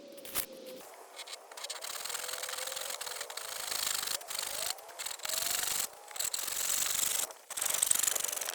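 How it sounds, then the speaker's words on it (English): Hand saw cutting timber for a vegetable bed frame outdoors, a steady rasping scrape running nearly continuously with brief pauses between strokes, fairly faint and close. "So yep, I've been sawing away."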